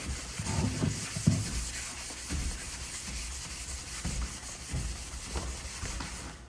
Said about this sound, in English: we'll just show you here on the good sandpaper. We can go along, sand some things